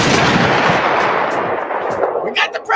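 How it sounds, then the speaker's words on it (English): A loud gunshot sound effect bursts out in a rapid volley of sharp cracks that trails into a decaying echo, followed by a faint voice at the very end. "We got the gunshot."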